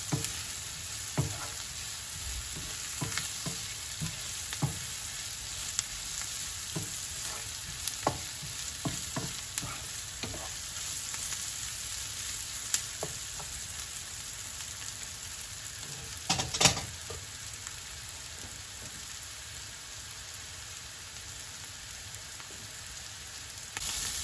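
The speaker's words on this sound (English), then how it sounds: "Now I'm going to add the mustard seeds and the cumin seeds" Half a teaspoon each of mustard and cumin seeds sizzle in hot oil for a Sri Lankan-style vegan mushroom fry, a steady close frying hiss with scattered pops and crackles, no one talking.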